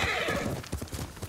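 A horse in the video game Ghost of Tsushima neighs and whinnies loudly. Quick clip-clopping hooves follow as it arrives after being called.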